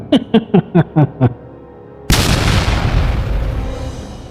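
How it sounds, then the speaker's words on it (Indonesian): A stone cave door explodes open: six rhythmic pulsing tones fade out, a short pause follows, then a sudden loud boom bursts into a long rumbling roar that slowly settles. "Pintu gua batu pecah meledak terbuka."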